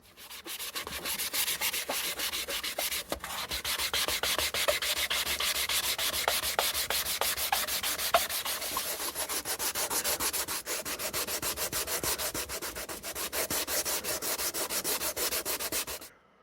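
Continuous hand sanding of filler on a Toyota Tercel inclinometer, with rapid back-and-forth scratchy strokes, steady and close, with a brief pause near the start and no talking.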